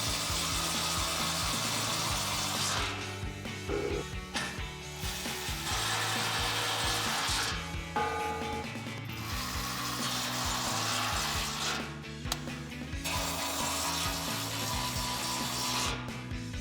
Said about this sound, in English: to tighten these down, we're going to be using a 15 millimeter socket and a ratchet